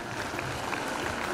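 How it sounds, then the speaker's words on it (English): Parents clapping for a primary class after an energetic dance at a school concert, a steady dense patter of applause with crowd murmur, continuous for a short burst. "Dear parents, let's clap this wonderful class"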